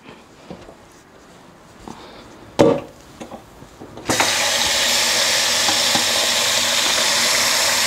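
Water pours steadily into a cooking pot over chopped hedgehog meat, a continuous loud rushing stream beginning partway through after a few soft kitchen clatters and knocks.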